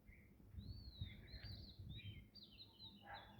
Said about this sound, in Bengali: দেখো কি সুন্দর পাখির ডাক